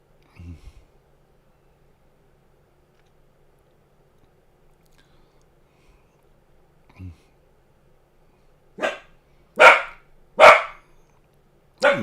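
A dog barks indoors in a run of four loud, sharp barks near the end, after long quiet with a few faint thumps earlier.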